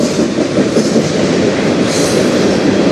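A train rolls past on the Strathroy Subdivision, a loud, steady broadband rumble of rail cars with faint clickety-clack, close by and unbroken for the whole stretch.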